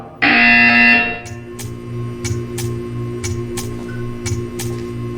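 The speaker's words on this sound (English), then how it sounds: "You will hear a buzzer." A loud electronic buzzer sounds in the video game Portal 2, a single sustained tone lasting about a second, followed by a low hum with faint repeated clicks and ticks.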